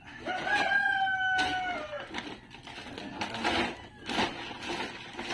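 A rooster crows loudly nearby while chickens cluck around it in a backyard poultry setting, the crow's drawn-out call followed by several short, uneven clucks and scratchy bursts.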